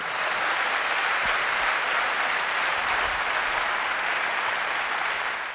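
Steady, dense applause from an audience at a health and wellness awareness event, sustained and even throughout with no pauses.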